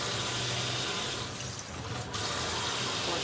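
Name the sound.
washing puffed rice in water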